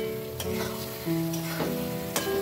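Fried onions and green chillies sizzle steadily in a pan while a utensil stirs and scrapes through them, with occasional sharp clinks against the metal.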